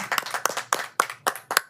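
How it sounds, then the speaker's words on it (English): A few sparse, evenly spaced claps, about seven sharp hand claps in a quiet room during a committee meeting, applauding staff of the Portland Children's Levy, with no talking. "can we give a round of applause to our staff at the Portland Children's Levy for such hard work?"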